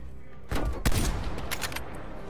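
Gunfire in Call of Duty Black Ops Cold War, a couple of sharp close shots around the midpoint followed by a brief burst, over steady game background noise.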